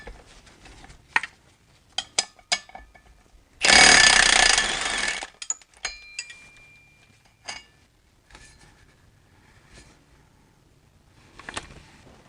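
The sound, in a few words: swivel socket wrench used removing BMW E46 transmission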